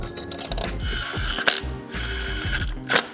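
A ratchet tightens old head bolts on a BMW engine, clicking rapidly and close in repeated bursts, with brief pauses and sharp metallic knocks between strokes.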